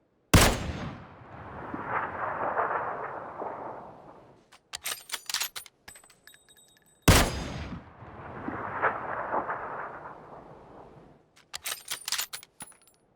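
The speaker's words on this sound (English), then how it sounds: "A normal, non-suppressed shot will often have a noticeably supersonic crack in the air. Just listen to the Kar 98 here." Kar 98 bolt-action rifle in PUBG, two loud unsuppressed shots with a sharp supersonic crack and long decaying tail, each followed by metallic bolt-cycling clicks.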